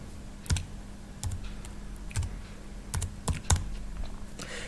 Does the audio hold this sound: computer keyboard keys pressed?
yes